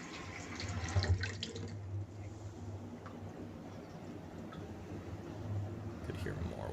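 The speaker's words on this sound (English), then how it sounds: "Could hear more water flowing." Water runs steadily and faintly from a tap or pipe in a bathroom, a low continuous wash with small drips, quiet and somewhat distant throughout.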